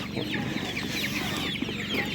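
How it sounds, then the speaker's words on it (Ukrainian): Hens and roosters cluck at a Ukrainian market, with dense overlapping calls over a busy background and faint voices nearby. "Є півники, курочки."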